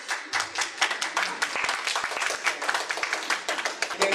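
Audience clapping at an International Women's Day event, a dense, steady burst of many hands that keeps up for several seconds, with a faint voice underneath.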